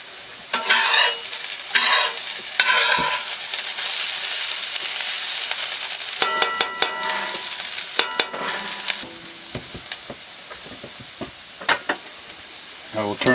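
An omelet sizzles in a frying pan, with a steady hiss broken by sharp clicks and scrapes from a utensil against the pan, some bursts louder and clustered.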